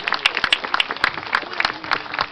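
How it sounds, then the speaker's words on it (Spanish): A crowd claps steadily and loudly up close during an outdoor Catholic procession for Nuestra Señora de la Reconciliación in La Molina, with overlapping hand claps forming a dense, lively patter. "Los aplausos, hermanos."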